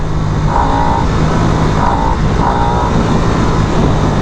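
Harley-Davidson 2022 Nightster motorcycle engine revving on a test ride, a loud, continuous, close drone with a few rising and falling rev swells layered over heavy rumble and wind.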